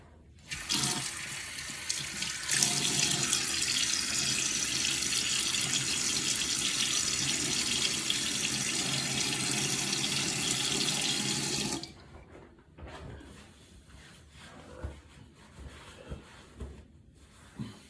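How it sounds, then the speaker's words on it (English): A bathroom tap gushes steadily for about eleven seconds as water is run to wet the face before a shave, then shuts off, leaving quieter splashes and handling sounds afterward. "Let me get my face wet."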